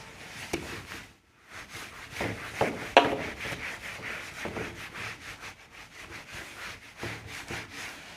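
Rubbing on a classroom board during a maths lesson, a dry scrubbing sound in repeated broadband strokes with a brief pause and one sharper scrape, moderately close and without talk.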